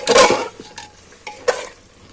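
Chicken being stirred with spices in a pan: a few loud, close scrapes and clinks of a spoon against the pan, three separate strokes over about two seconds, with a faint sizzle beneath and no voices.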